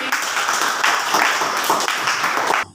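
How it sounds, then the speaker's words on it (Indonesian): Classmates in a high school classroom applaud a student after a presentation, a short, close burst of clapping that cuts off abruptly. "tepuk tangan untuk Ernasti"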